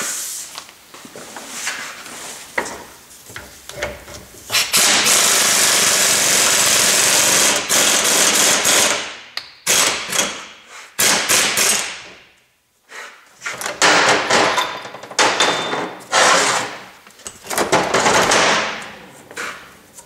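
A new lower ball joint is hammered into a Honda Odyssey: loud, sharp metallic blows come in bursts and rapid rattling runs, broken by brief pauses, close by and without talk.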